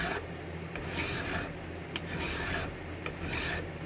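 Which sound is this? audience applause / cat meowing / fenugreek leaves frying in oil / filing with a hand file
filing with a hand file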